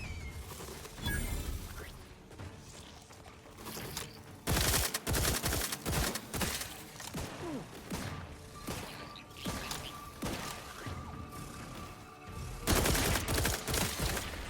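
Rockets fire in bursts in The Outer Worlds 2, sharp loud blasts and crashing impacts coming in clusters over roughly fifteen seconds of chaotic combat.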